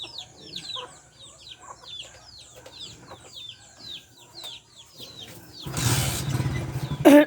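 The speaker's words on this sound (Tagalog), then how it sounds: "Daming manok mga katagay," Chickens clucking nearby in a rural Filipino setting, many short repeated clucks and calls, followed near the end by a burst of louder broadband noise.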